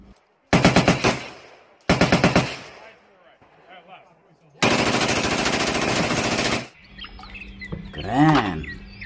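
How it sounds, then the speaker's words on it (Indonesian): A toy M4 rifle fires in loud, rapid buzzing bursts: two short volleys, then a longer sustained one, followed by warbling electronic sound effects, close to the microphone. "yang ini ada senjata M4"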